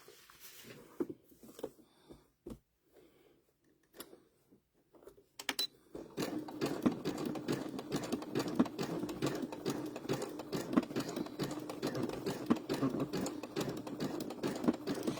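A sewing machine stitching an apple appliqué onto a dish towel, starting with a few scattered clicks and short bursts before settling into a loud, steady, fast needle rattle up close that runs continuously to the end.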